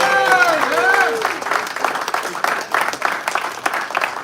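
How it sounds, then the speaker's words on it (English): An audience breaks into applause after a voice briefly cheers at the start, and lively clapping then carries on steadily with a few whoops mixed in. "Let's give him a great round of applause."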